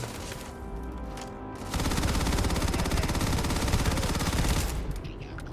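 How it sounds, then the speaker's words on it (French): Rapid automatic gunfire from a weapon in the Starfield video game, a dense sustained burst of shots after a quieter stretch of game ambience, loud and close. "les balles elles partent tellement vite, c'est affreux"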